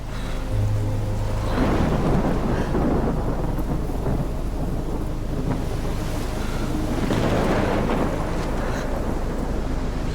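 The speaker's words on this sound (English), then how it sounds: "Big storm over there." A stylized thunderstorm rumbles through the Life is Strange video game, with deep rolling thunder, steady rain wash and wind swelling in long loud waves and no talking.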